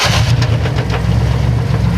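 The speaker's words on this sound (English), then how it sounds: "hear that noise from the engine" A 1994 Chevrolet Astro Van engine running loud and close, a steady low rumble with a rough, uneven idle and no one speaking.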